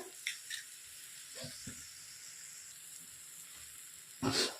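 Eggs frying on a low flame for a Kannada-style drumstick leaves and egg stir-fry, a soft steady sizzle with a few light stirring clicks and a louder scrape near the end.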